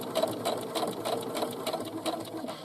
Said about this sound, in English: I'm going to stitch down and turn the corner and then back stitch